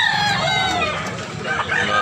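A bullstag rooster crows loudly and close by at a market, a single drawn-out call over a busy background of other fowl.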